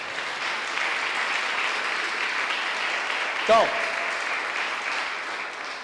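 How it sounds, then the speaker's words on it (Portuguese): Church congregation breaking into sustained applause, a dense, even wash of many hands clapping at once that holds steady throughout, with a brief voice cutting in near the middle. "Dá uma salva de palmas para Jesus."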